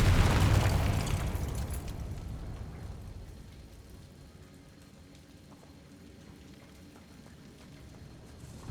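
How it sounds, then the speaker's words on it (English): A Confringo explosion spell in the Hogwarts Legacy video game goes off as a loud, deep boom with a crackling burst, then fades into a long, low rumbling tail. "Confringo."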